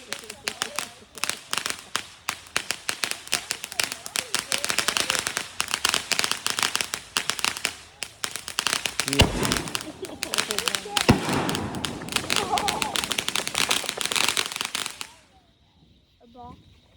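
A pallet of consumer fireworks burns through a Fourth of July display, giving a long dense barrage of crackling pops and bangs for about fifteen seconds with a few heavier booms near the middle, then abruptly stops, leaving faint voices.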